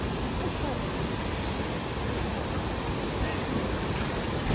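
A waterfall at a temple in Ubud, Bali produces a steady, broad rushing roar of falling water. It continues unbroken and fairly loud, with faint wind buffeting the microphone.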